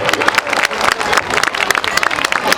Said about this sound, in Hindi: एक बार जोरदार ताली बजाकर इन बच्चों का हौसला बढ़ाएंगे सभी।